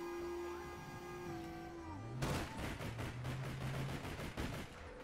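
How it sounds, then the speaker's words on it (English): Rapid bursts of automatic gunfire in the online game APB crackle in a dense, loud volley lasting several seconds, following a quieter stretch of tonal game sound. "Where are you shooting at?"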